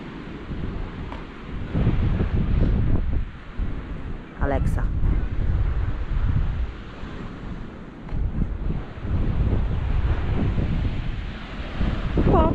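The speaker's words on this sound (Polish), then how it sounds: "Przyszliśmy się pożegnać z morzem," Sea waves and gusting wind at a cliff on the Hel peninsula, a steady loud roar of surf with heavy wind buffeting the microphone, low rumbling bursts throughout and a faint voice briefly heard.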